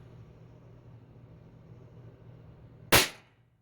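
A single sharp, loud crack from a tiny 2mm pinfire derringer mini pistol rings out near the end, close and abrupt after quiet room hum, decaying quickly.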